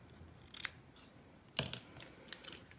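Scissors snip close up through excess cotton wick on a Mechlyfe Ratel rebuildable pod, with a few crisp cuts in a quiet setting: one near the start, then a sharper cluster of snips.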